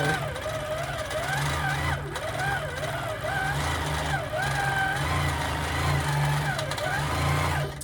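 A Handi Quilter Amara 20 ST quilting machine stitching fabric, running as a steady mechanical hum with a whirring tone that rises and falls as the fabric is moved.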